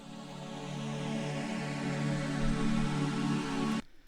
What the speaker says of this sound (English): I have a pad that sounds like this.